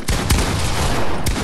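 Fortnite gunfire, a quick burst of a few loud, sharp shots in rapid succession within about a second and a half, close and dominant with no voices.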